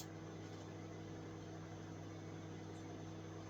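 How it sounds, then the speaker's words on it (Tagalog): A noisy microwave oven runs with a steady, continuous hum and mechanical drone, holding an even level throughout with no voices over it. "Maingay yung microwave."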